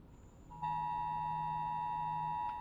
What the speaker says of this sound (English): All my phones are going off.